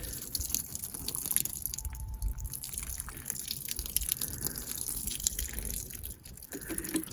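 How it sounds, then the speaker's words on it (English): Watering can gently sprinkling newly sown spinach and lettuce seeds in a high desert garden bed, a soft continuous pattering shower of water onto soil, close and steady for several seconds before easing, with no talking. "I'm just gently doing this with my watering can"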